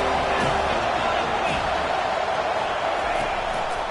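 A stadium crowd in the video game College Football 25 roars in a dense, steady wash of noise on a third down, continuous and loud throughout.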